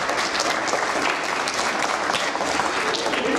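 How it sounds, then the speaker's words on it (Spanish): A school reading-event audience gives a sustained round of clapping to welcome a student reader, dense and even throughout at close range, with no speech. "quien recibimos con un aplauso"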